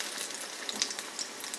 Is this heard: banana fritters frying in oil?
yes